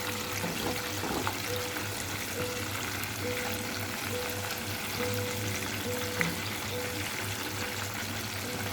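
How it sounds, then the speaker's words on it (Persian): Chicken sizzles and crackles steadily in hot oil, a constant frying hiss close up, with a faint repeating beep in the background. "خب روغنمون الان داغ شده، مرغا رو بهش اضافه میکنیم"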